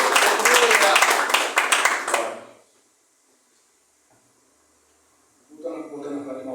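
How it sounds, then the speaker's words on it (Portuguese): Congregation at a Portuguese-language church service clapping for Jesus, a dense burst of applause lasting about two seconds and fading into silence before a voice resumes speaking. "Você vai ter palmas para Jesus também?"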